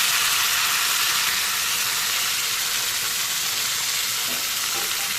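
Cooked toor dal goes into a hot tempering and is stirred, giving a loud, close, continuous sizzle with faint stirring underneath. No one speaks.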